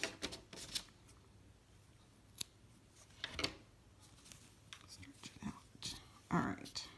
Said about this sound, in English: Let me cut these tails out of the way.